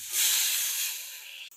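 A steady, bright hiss of water with jaggery heating in a pan, rising quickly and holding for about a second and a half before cutting off.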